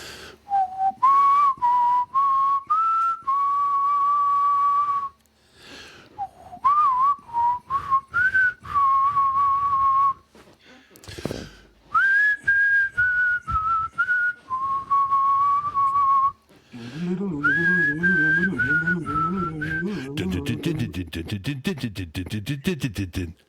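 Someone whistles a wavering, sliding melody as music for a podcast, in phrases broken by short pauses, loud and close, ending with a buzzier hummed or droning passage.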